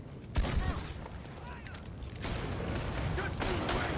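Gunfire in Red Dead Redemption 2 during a frontier shootout, with a sharp shot and then a steady background of distant firing mixed with shouting voices.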